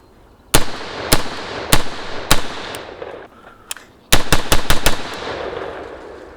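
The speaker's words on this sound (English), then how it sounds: "Going to do 5 rounds really slow, let you hear it a little bit" Sharp, loud AR-15 rifle shots with an H2 buffer, several evenly spaced single rounds at a slow pace, then a quicker cluster of shots, each crack ringing out briefly outdoors.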